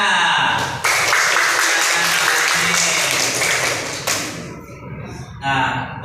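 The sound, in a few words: students clapping hands in class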